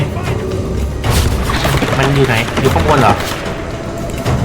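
Explosions and gunfire from the video game Tomb Raider, loud booms and rapid bursts rolling over a few seconds with a player talking over them.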